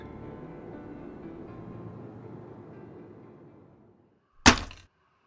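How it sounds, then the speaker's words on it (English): A single soft knock of something striking a window pane at night, sharp and close, following a fading low ambient hum and then near silence. "A soft strike of something against the glass of the singular window in our room."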